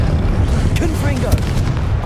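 Confringo fire spell blast in Hogwarts Legacy, a few booming, crackling bursts over a steady low roar of battle noise, with sharp transients near the middle of the clip.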